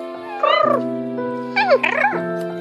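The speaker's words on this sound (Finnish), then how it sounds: "Ruoan jälkeen kissat alkavat perinteiseen tapaan leikkiä" Two house cats meowing while playing after eating, two distinct drawn-out meows close by, one after the other, with quiet pauses and a soft tonal hum underneath.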